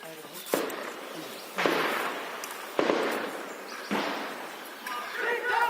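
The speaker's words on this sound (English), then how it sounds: "The shooting continued for several hours." Gunfire during a military operation in Kashmir: four or five separate, sharp shots spaced about a second apart, each ringing out with a reverberant tail, heard at a distance.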